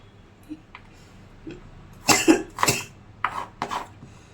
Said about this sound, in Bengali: আমার জানো তো কাশিটা কমেনি